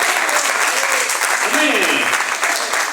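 Church congregation at a revival service applauding loudly throughout, a dense continuous wash of clapping with voices shouting and cheering over it.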